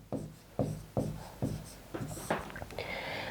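A teacher writes an answer on a board, making a series of distinct close strokes and taps at a steady pace that turn into quicker scratchy marks near the end, with no talking over them.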